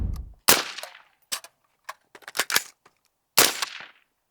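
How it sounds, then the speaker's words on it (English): A rifle reload with a magazine inserted and the bolt sent home: sharp metallic clacks and clicks in an uneven sequence, close and crisp, ending with one loud snapping clack. "The way that you put that mag in and send the bolt home is just better than anything I've ever seen."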